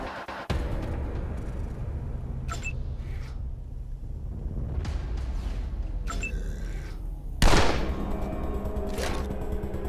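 Several sharp gunshots sound one at a time in the video game Wasteland 2 over a steady background drone, with the loudest crack near the end.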